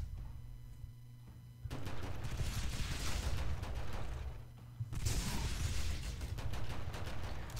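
Rifle fire in the shooter game Midnight Star: Renegade, two dense bursts of rapid shots with a quiet gap between them, loud and close against a low game backdrop.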